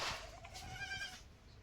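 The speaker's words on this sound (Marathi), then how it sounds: "हे बघा, पाठबोकड आहे" A newborn male goat kid on a farm gives a few thin, wavering bleats at close range over low background rumble, with no talking.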